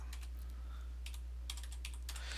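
Computer keyboard typing into a search box, quick bursts of clattering keystrokes over a low steady hum, fairly close and faint with no talk.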